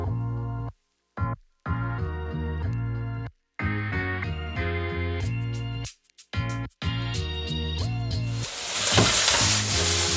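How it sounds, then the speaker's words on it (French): Bacon lardons and onions fry in a pan for a quiche lorraine, a sizzle running beneath prominent melodic background music that cuts in and out, with the frying hiss swelling louder near the end. "on commence par mettre les lardons dans la poêle pour que le gras présent sur les lardons fonde au fond de la poêle"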